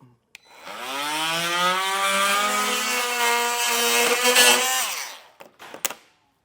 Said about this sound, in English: I have a multi-tool. These work really well for some nice clean cuts.